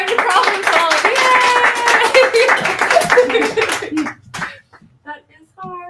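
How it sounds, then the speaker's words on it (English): A room of people claps and cheers for Rich Taylor, a loud dense burst of applause with excited voices that lasts about four seconds, then breaks off into scattered claps and a few faint sounds. "Big round of applause for Rich Taylor"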